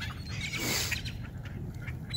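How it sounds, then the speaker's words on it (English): Ring-billed gulls squabble while feeding, giving a brief burst of harsh squawks at moderate distance over a steady outdoor background. "As contentedly as squabbling seagulls can munch."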